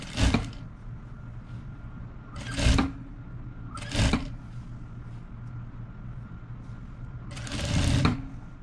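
A sewing machine stitches a nightgown seam in four short bursts, each a loud rapid whir lasting under a second, with a quiet background hum between runs.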